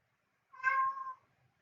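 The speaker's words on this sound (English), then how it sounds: "That's one of the cats." A house cat named Zozo gives a single clear meow, close and moderately loud, rising and falling over about half a second in an otherwise quiet room.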